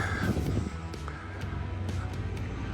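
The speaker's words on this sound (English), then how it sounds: "I can smell the sea and I can hear the seagulls" Seagulls call by the sea at Whitstable, giving a few short, distant cries over a steady low rumble of wind and traffic.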